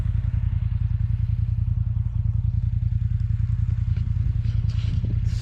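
An ATV four-wheeler drags a custom disk across a rough field, its engine thrumming in a fast steady pulse up close, with faint scraping and clattering from the implement over the ground.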